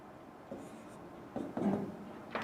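A pen scratches faintly on paper as numbers are written by hand, a few short close strokes in quiet surroundings.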